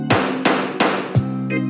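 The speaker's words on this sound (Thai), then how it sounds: "ข้าขอตัดสินด้วยค้อน" A judge's gavel in a musical animal-court scene strikes four times at an even pace, each a sharp wooden knock with a brief ringing tail, near and loud, with a soft tone entering after the last blow.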